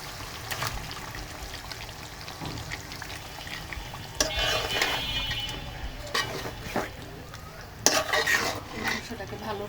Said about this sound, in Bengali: মাংসটাকে ভালো করে কষিয়ে নিই।